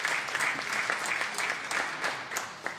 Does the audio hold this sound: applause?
yes